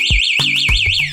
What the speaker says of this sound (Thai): จะมีเสียงร้องเตือนก่อนครับครั้งแรกครับพร้อมแสงไฟเลี้ยวนะครับ